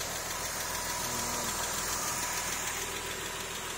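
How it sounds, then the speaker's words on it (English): Porsche 996 with a 3.4 litre flat-six and automatic gearbox, freshly reinstalled in a workshop, runs at a steady idle, a continuous even mechanical hum alone and close by. "first time we just put the engine back in, start it up, we're going to get it run to make it hot"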